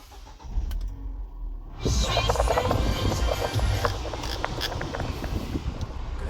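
A Ford Fiesta ST engine cranks and catches about two seconds in, then settles into a loud, steady, close-up idle with a broad rumble.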